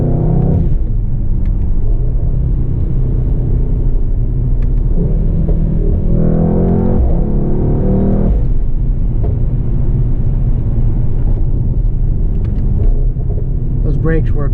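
A Mercedes-AMG GT 63 being driven hard, its engine a loud, continuous low rumble that rises and falls with the throttle and brief fluttering turbo blow-off bursts, with a voice talking over it throughout.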